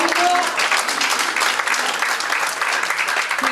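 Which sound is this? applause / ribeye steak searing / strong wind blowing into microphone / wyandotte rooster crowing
applause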